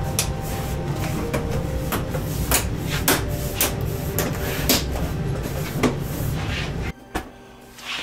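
Plastic back cover of a 50-inch Samsung UN50NU6900B TV pressed into place: a series of sharp plastic snaps and clicks at irregular intervals, close and loud over a steady noisy background, with no voices.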